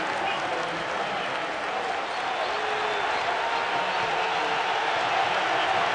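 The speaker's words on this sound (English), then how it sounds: "This crowd is getting into the game." Stadium crowd at a college football game, Wisconsin at Iowa, roaring and cheering steadily throughout, a dense, loud wash of voices with no letup.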